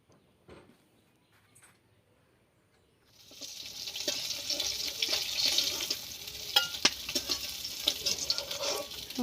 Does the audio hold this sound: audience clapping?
no